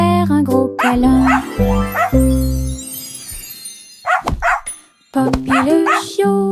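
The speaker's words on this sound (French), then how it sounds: "Elle aboyait et hurlait avec un son joyeux" A dog barks several times in short, lively bursts, with a musical backing running through the clip and a brief quiet gap near the end.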